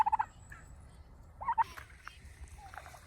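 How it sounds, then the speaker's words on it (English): Turkeys gobble nearby in two quick rattling bursts, the first at the start and the second about a second and a half later, with faint rustling and quiet background between them. "Crazy turkeys."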